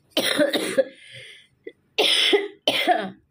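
A person coughs in several harsh, close bursts: a double cough, a pause with a small throat sound, then two more strong coughs in quick succession, with no talking.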